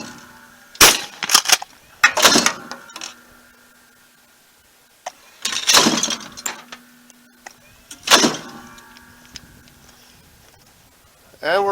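A Stevens 320 pump-action shotgun fires target loads at a range, four loud, sharp blasts spaced a couple of seconds apart, each with a brief echoing tail and pump-action clatter between shots.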